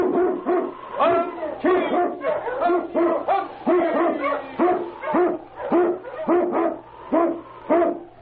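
An Eskimo lead dog barks repeatedly in a radio drama set in a snowy Yukon storm, loud, close, rhythmic bursts roughly every half second, some rising into yelps.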